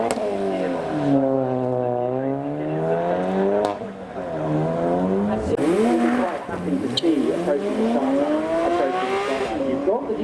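A car pulls away from the line at a drag strip, its engine revving loudly up through the gears with a shift partway through, heard from nearby alongside a second engine's rising note.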